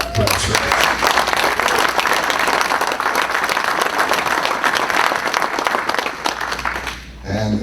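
A large crowd at a USS Parche reunion bursts into loud, sustained applause, dense clapping continuing for several seconds before tapering off at the end.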